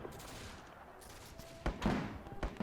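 Musket gunfire in the Between Empires battle game, a quiet stretch that turns into a ragged volley of crackling shots in the second half, fairly distant, with no talking over it.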